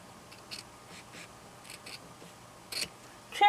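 Scissors snipping fabric while making oven gloves, a few sparse, soft cuts scattered through a quiet room, with a louder, closer snip near the end.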